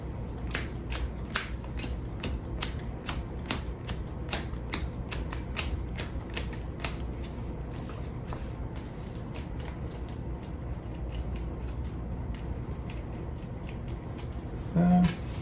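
Playing cards for the Heat racing board game being shuffled by hand, a long run of close, crisp riffling clicks and snaps in rapid irregular bursts, with no talk.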